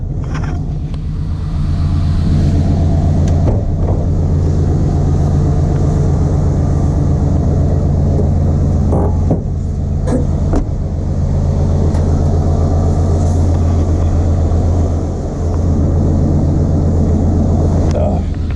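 An old OBS pickup truck with a simple 350 V8 idles steadily nearby, its low, even rumble holding constant throughout.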